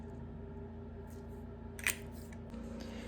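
Scissors snip a beaded bracelet cord with a single faint, brief click over a quiet room hum.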